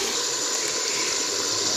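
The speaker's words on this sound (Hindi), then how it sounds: "तो इसमें हम पानी शामिल करेंगे शोरबा बनाने के लिए।" Water is poured into a pot of browned beef paya (trotters) to make the broth, a brief steady rushing gush under a bright sizzling hiss, with no talking.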